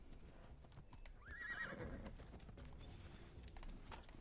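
A horse in Assassin's Creed Odyssey whinnies once, a rising then wavering call standing out over steady hoofbeats and game ambience; the galloping continues underneath throughout.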